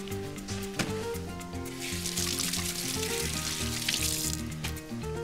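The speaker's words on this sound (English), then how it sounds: "I'm just gonna wash my hands." Tap water runs over hands at a kitchen sink during cooking, a soft rushing splash that swells in the middle under steady background music.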